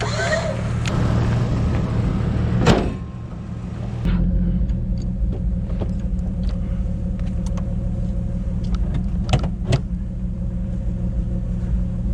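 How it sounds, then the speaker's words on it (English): A Jeep's engine rumbling low and steady while it is pulled in during an off-road recovery on Goodman Creek Road, with a few sharp knocks and clanks over the continuous drone. "All I'm doing is pulling my Jeep in."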